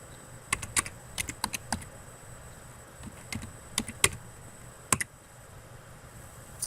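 Computer keyboard keys click in short irregular bursts as an item barcode number is typed in at a library return desk, close and crisp over quiet room tone, without speech.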